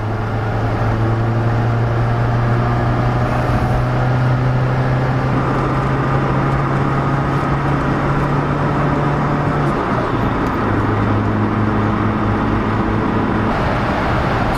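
Fiat Uno 1.0 FIRE speeding up on an open road outside town, its small engine droning loud and steady inside the cabin, pitch climbing under constant road noise, with a brief shift near the end.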